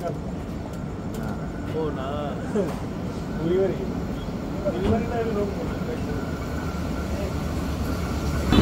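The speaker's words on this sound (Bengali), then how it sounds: "মির্জাপুরেই আরও একটি ডাবল লাইন ক্রসিং সম্পন্ন হলো বুড়িমারি থেকে ছেড়ে আসা ট্রেন নাম্বার 810 আন্তনগর বুড়িমারি এক্সপ্রেসের সাথে।" Intercity Burimari Express train passing at a double-line crossing in Mirzapur: a steady, loud rumble and rattle of rail cars rolling by, with squealing wheel tones rising and falling throughout, continuous to the end.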